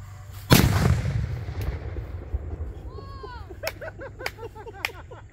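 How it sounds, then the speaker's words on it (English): A small firecracker goes off with one sharp, loud bang, followed by a crackling tail and a few short pops. Excited voices and a whoop can be heard afterward. "little firecracker"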